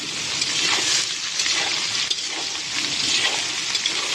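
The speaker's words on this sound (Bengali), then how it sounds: "এটাকে ভালো করে ভাজবো।" Potatoes and eggplant fry in a pan, a steady crackling sizzle with occasional stirring scrapes, close and fairly loud with no talk.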